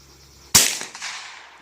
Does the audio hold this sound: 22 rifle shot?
yes